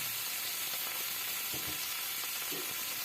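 Chopped spring onion frying in hot oil in a pan: a continuous, even hiss of sizzling with a few soft stirring knocks.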